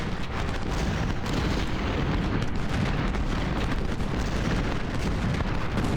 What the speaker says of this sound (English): The artillery is just pounding away at us, but ours is returning fire.